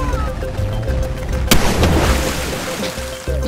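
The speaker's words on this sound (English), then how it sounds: "You guys just hear an explosion in the background?" A sudden explosion in the video game Totally Reliable Delivery Service, near a Ferris wheel, lands as one loud sharp blast midway through, then a rumbling, sloshing wash over steady game ambience.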